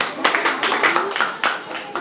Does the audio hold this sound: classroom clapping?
yes